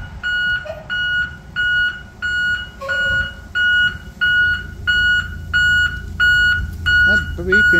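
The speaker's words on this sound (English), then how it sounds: "That beeping is loud as hell" Loud electronic beeping repeating in steady pulses about every half second, with a car-alarm or reversing-beeper tone, near a school bus lift, with voices and background rumble underneath.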